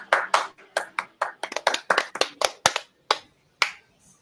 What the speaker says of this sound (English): Again, round of applause for Ellie.